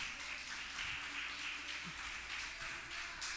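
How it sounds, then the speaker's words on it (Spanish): A church congregation claps together in a sustained round of applause, a dense, even patter of many hands heard from a distance, fairly quiet and without talk. "Demos una ofrenda de palmas una vez más."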